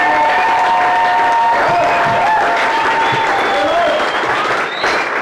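A church congregation applauds steadily through a Sunday worship service, with dense clapping joined by scattered cheers and voices.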